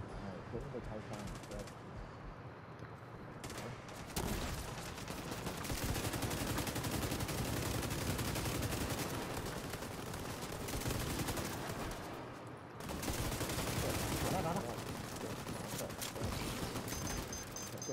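Rapid gunfire bursts from The Division 2, dense and loud, nearly continuous across the clip with brief lulls, mixed with game effects and voices of players talking over it.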